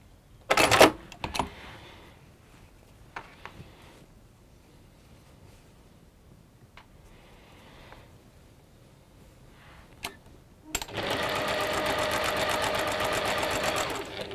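A sewing machine stitches small fabric pieces in brief bursts, then runs in one long steady whirring stretch near the end. Quiet pauses with small handling clicks separate the runs.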